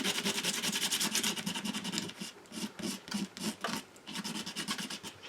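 Sandpaper rubbing over a UV resin butterfly ornament, a steady rasping scrape that runs continuously at first, then breaks into short strokes, close up and alone.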